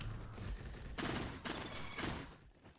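Quick bursts of SMG fire in the Roblox shooter Bad Business, several short rattling volleys of gunfire close up with brief gaps, ending in near silence.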